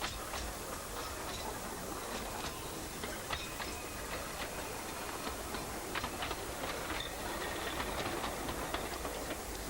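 A double-headed vintage ten-coach train on the Festiniog Railway rolls past with a steady dense rumble. Faint rail clicks and ticks run through it for the whole stretch, and no voices are heard.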